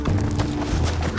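Horse hooves clip-clopping in the Red Dead video game, a steady trotting rhythm of close, fairly loud hoofbeats.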